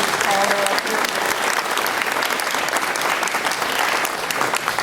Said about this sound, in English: Give Daphne a round of applause for letting me call her up here.